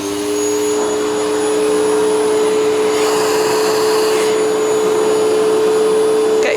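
A Philips Performer Active FC8578/09 vacuum cleaner runs close and loud, a steady high whine and rushing air that swells slightly in the middle, with no talk.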